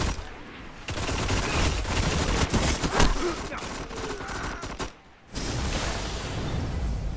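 Gunfire in Destiny during an Iron Banner match, a dense fusillade of shots and weapon effects running almost without pause, with one brief lull before firing resumes.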